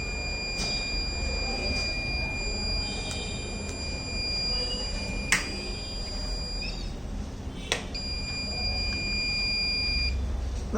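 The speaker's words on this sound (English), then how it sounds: "the buzzer will get switched on" A railway bridge damage and track fault notification system sounds its alarm buzzer, a steady high-pitched electronic tone that cuts out briefly and resumes over a low background rumble with a few sharp clicks.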